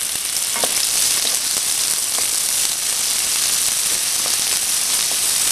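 Garlic and young onion sauté in a hot pan with a steady, dense sizzle that holds at an even level throughout, with a few soft stirring clicks near by.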